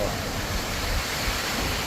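Strong typhoon wind roars steadily with heavy rain in Batangas, Philippines, a dense, continuous, loud rushing noise with no pauses.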